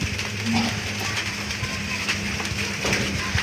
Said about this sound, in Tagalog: ang hagupit ng ulan